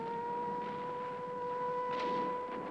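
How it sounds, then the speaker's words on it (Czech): A wartime air-raid siren holds a steady two-tone wail at moderate level, continuous throughout with a faint hum and rumble beneath. "Siréna."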